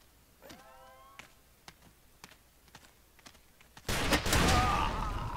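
Gunfire in the game Ace of Spades: a scatter of faint single shots and ticks, then a loud, dense burst of rapid fire near the end.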